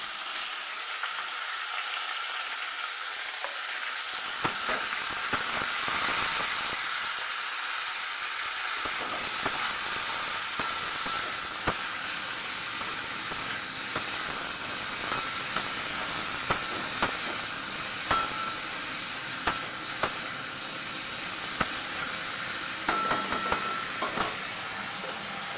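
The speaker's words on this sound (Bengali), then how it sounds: "ফুলকপিটা ভাজা ভাজা হয়ে গেছে।" Cauliflower, steamed first, fries with whole garam masala, cumin and salt in a pan, a loud continuous hiss and sizzle with scattered crackles and occasional stirring taps throughout.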